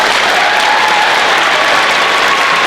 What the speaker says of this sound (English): Let's give another quick round of applause.